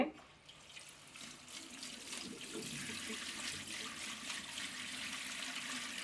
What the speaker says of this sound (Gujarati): સારી રીતે પાણી કાણાવાળા વાસણમાં લઈ ધોઈ નાખશું